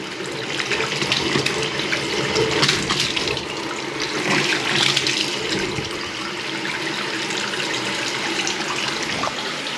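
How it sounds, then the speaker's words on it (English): Water runs steadily from a bath tap into the tub during a dripping-tap replacement in a domestic plumbing job, a continuous close rushing splash with no one talking. "let's pour some water through"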